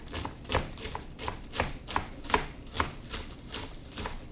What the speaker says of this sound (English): We can just chop finely.